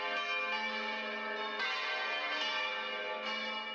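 Church bells ringing in a Castilian village, rich sustained metallic tones with several fresh strikes every second or so, layered and resonant, loud and close with no voices.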